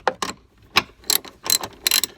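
Socket wrench ratcheting on a 13mm bolt at the visor of a Jeep Wrangler, several short bursts of clicking spaced across about two seconds, close and moderately loud with no talk.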